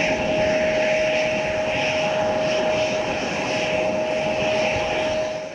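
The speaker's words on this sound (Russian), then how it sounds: "На взлетно-посадочную полосу Брестского аэропорта успешно приземлился космический Embraer 175" An Embraer 175 airliner lands at Brest airport, with a loud, steady engine roar and a high whine that hold throughout and fade slightly at the end.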